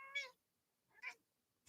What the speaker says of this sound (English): Do you guys hear her meowing?